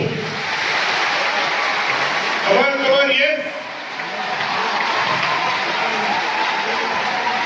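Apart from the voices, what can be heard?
team clapping enthusiastically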